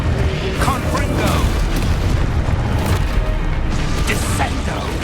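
An explosive Confringo spell from the Hogwarts Legacy video game booms out in a loud, continuous wash of rumbling blasts and mechanical clatter, with brief pops over the top.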